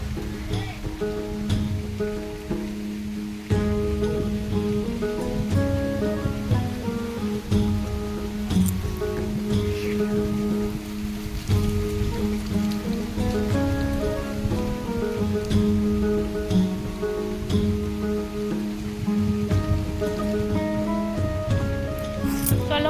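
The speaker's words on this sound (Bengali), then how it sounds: "তো দেখো কেমন ঝড় কেমন শুরু হয়েছে" A storm brings wind and steady rain pattering on surfaces outdoors at a house under construction, a dense continuous wash of drops over a droning tonal background.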